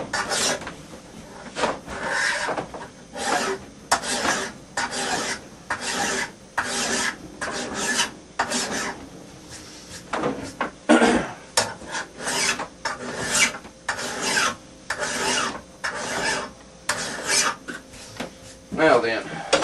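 A hand file is rasped in repeated back-and-forth strokes along the bevel of a hand axe being sharpened. The steady rhythmic scraping is close and loud.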